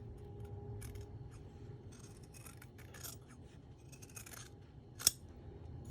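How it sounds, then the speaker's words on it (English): Scissors snip along a line while trimming a fabric seam during sewing, quiet intermittent cutting sounds with one sharper snip near the end, close by and without talk. "I'm going to cut right along this line, keeping it pretty straight"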